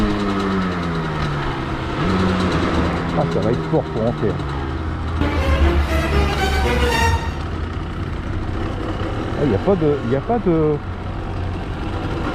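A motorcycle engine idles close by with a steady low rumble that briefly swells louder midway, while people talk over it throughout.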